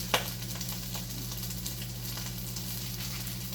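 Fried rice crisps in a hot pan with a steady, even sizzle and a soft crackle, close and continuous over a low background hum, with one brief tap near the start and no voices.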